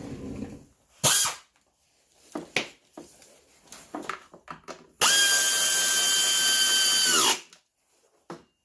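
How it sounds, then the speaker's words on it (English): A power drill drives the last screw into a Generac iX2000 generator: a brief burst near the start, then scattered handling clatter, and a long steady whine of a couple of seconds, close and loud. "let me find that last screw, get it in"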